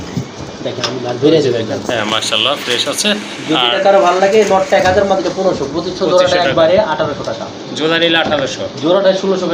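Pigeons for sale, fancy and racer birds including a down-shaped breed, coo softly and intermittently beneath steady close conversation between men.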